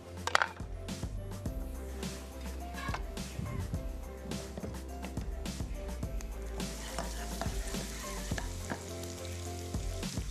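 Food sizzles steadily in hot oil in a kitchen pan for qeema samosa filling, with frequent close metal clinks and scrapes from stirring over the constant crackle.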